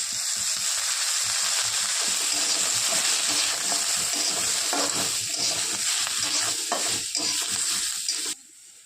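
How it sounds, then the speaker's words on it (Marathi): Garlic, cumin and a little oil sizzle loudly and steadily in a pan for onion thecha, with scraping stir noises through most of the clip. The frying cuts off near the end. "भरपूर असं लसूण त्यात टाकत आहे एक चम्मच जिरे थोडंसं तेल"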